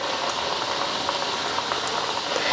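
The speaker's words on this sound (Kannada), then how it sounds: "ಈಗ ಎಣ್ಣೆ ಕಾಯ್ದೈತ್ರಿ. ಈಗ ನಾನು ಚಕ್ಲಿ ಹಾಕ್ಕೋತೀನಿ ನೋಡ್ರಿ." Rice flour chakli frying in a pan of hot oil, a dense continuous bubbling hiss that stays even throughout, close and with no voices.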